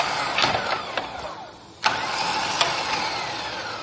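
Electric winch on a Volkswagen Touareg spooling steel cable through a fairlead, a steady motor whine running throughout with a brief pause and a sharp clunk near the middle, then resuming.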